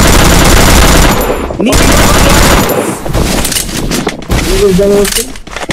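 Rapid gunfire bursts from a battle-royale-style video game tournament match, loud and dense for most of the stretch with brief gaps, mixed with game effects and a voice speaking over it.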